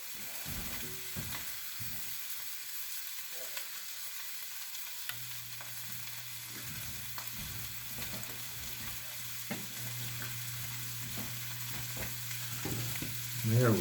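Ham, cured, smoked and peppered, sautéing in a pan, giving a steady soft sizzle throughout with occasional stirring clinks and utensil scrapes, no one speaking.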